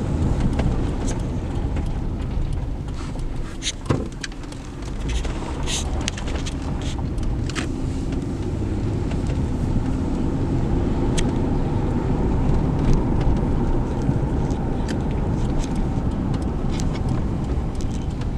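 A car drives along a road, giving a continuous, fairly loud rumble of engine and road noise with a few brief knocks and thumps over about eighteen seconds.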